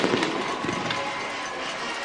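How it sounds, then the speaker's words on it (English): Fireworks going off inside a stadium during a Jackson State vs Florida A&M SWAC college football game, a dense continuous crackle and hiss under broad crowd noise, loudest at the start. "The fireworks inside the stadium, leaving orange and green into the air."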